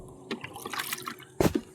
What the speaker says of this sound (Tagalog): Lagyan ko lang ng konting tubig